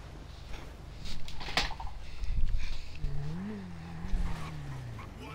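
A motorbike ridden in GTA Online, engine revving and droning with rising and falling pitch, along with scattered tire and road noises, moderately loud and close, with a voice briefly over it.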